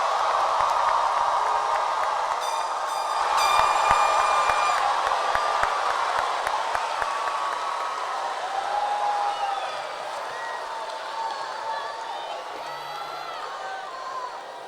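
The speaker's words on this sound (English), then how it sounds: "Please join me in giving one last round of applause for your class of" A high school graduation crowd for the class of 2015 gives a long, loud round of applause in a large venue, dense clapping with scattered whoops and cheers that slowly thins out.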